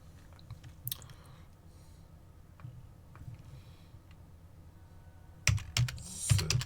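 A computer keyboard tapped while entering a password, faint scattered clicks with a brief louder flurry of keystrokes near the end, close and without talk.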